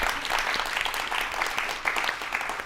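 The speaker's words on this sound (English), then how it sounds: "round of applause" A crowd at a reunion gathering breaks into a steady round of applause, dense clapping that holds for the whole stretch with no talk over it.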